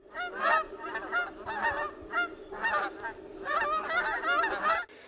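About 1,000 Canada geese honking in a noisy, continuous chorus, many birds calling over one another, loud and fairly close.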